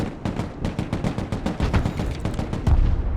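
Rapid, loud gunfire from artillery units in the Broken Arrow video game: dense bursts of shots and heavy booms, with a large blast near the end and no talking.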